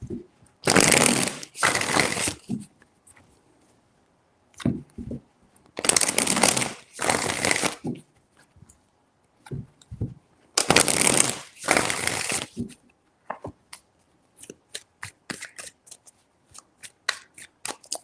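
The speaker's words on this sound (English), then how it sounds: "4 shuffles." Tarot cards are shuffled in three loud riffling bursts separated by pauses, followed by lighter scattered taps and flicks of the deck.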